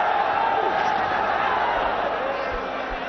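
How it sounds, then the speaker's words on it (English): Large crowd in a stadium at a BPL T20 cricket match, a broad steady roar of many voices under a commentator's talk. "Fantastic crowd here."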